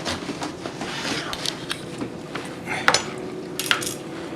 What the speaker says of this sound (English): First you slice it long ways